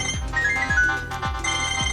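An Itel 2163 budget phone plays its ringtone at the lowest volume setting, yet it still sounds fairly loud: a bright melodic tune with a steady pulsing beat about twice a second.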